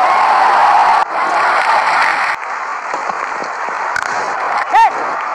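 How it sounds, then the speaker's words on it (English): A crowd in the cricket video game Real Cricket 20 cheers and applauds loudly and steadily, the noise shifting in level at cuts, with a brief whistle near the end and a commentator's voice faintly under it. "The openers, greeted with a loud cheer from the crowd."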